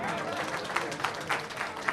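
An audience at a summer camp closing ceremony applauds a graduating youngster, a dense steady clapping with a few sharper claps standing out.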